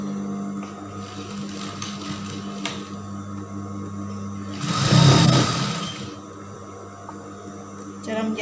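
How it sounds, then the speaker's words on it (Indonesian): A sewing machine stitches the gathered waistband of baggy pants in one loud, rapid whirring run of about a second and a half over a steady background hum. "bagian tengahnya ini kita jahit supaya lebih kencang"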